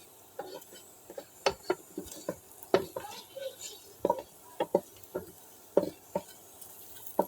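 A garlic mash is worked in a pan with a utensil, giving a string of separate knocks and scrapes at an uneven pace, close and fairly quiet against a soft background.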